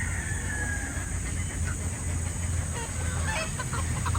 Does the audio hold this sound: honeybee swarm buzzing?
no